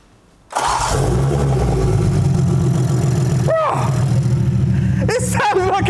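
A BMW B58 engine with a big turbo and no exhaust fitted cranks and fires, then settles into a loud, raw, steady idle. A couple of short throttle blips come near the end.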